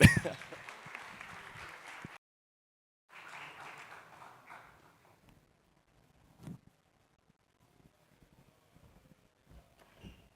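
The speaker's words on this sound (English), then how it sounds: "please give us them a big round of applause" A fireside-chat audience at a conference gives a burst of clapping that cuts off, resumes more thinly, then fades into scattered claps and quiet room noise.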